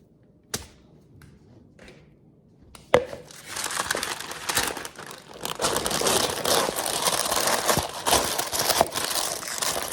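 Parchment paper crinkles and rustles steadily as sourdough dough is set onto it in a bowl, preceded by a couple of light taps and a thump, then continuous close crackling.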